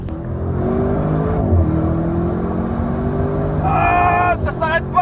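An Audi RS6, the last combustion-engined version, accelerates hard with a loud, steadily rising engine note heard from inside the car, pulling continuously before a gear change near the end.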